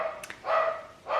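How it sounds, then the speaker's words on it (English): Pet dog barking inside a house, reacting to someone outside, giving two or three short close barks with brief gaps between them, no talk. "Sorry about the dog."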